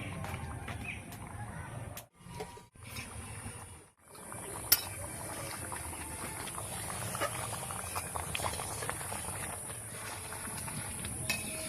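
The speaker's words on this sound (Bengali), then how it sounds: "দেখুন চারিদিকে কি সুন্দর করে ফুটছে।" Ghugni, a pea curry, bubbling in an open pot after pressure cooking, giving a steady soft patter and faint popping close by, with a few brief quiet gaps early on and no talk.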